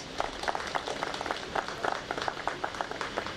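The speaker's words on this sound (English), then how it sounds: "Please give a round of applause." Guests at an inauguration ceremony for an air-quality monitoring station applaud a visiting Slovenian ambassador, a moderate crowd clapping steadily with individual claps distinct, somewhat distant and without talk.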